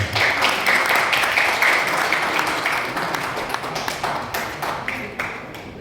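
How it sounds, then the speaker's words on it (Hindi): Audience at an Uttarakhand felicitation event keeps up sustained applause, a dense steady wash of clapping with scattered sharper taps, loud and close throughout and slowly easing toward the end. "लगातार तालियां जरा बजती रहे"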